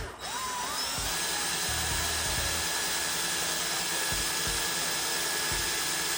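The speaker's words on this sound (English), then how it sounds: "now if we can actually drill a hole" A power drill with a 3D-printed bit whines steadily at a high pitch while pressed against wood, loud and continuous throughout, with a few low thumps underneath.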